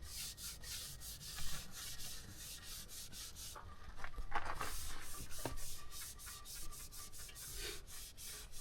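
A pad rubs buffing compound over the black plastic on a RZR side-by-side, making a steady, soft rasping swish in quick repeated strokes, close and quiet, with no speech.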